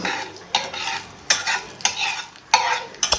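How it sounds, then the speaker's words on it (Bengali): Dried red chili frying in hot oil in a pan, a steady crackling sizzle broken by several scraping stirs of a utensil against the pan. "একটা শুকনো লঙ্কা দিয়ে দিলাম, দিয়ে এবার একটু ভাজবো"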